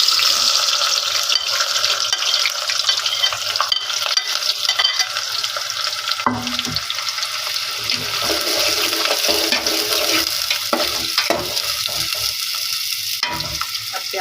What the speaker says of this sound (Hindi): ऑयल गर्म जैसे ही होता है तो इसमें प्याज ऐड करते हैं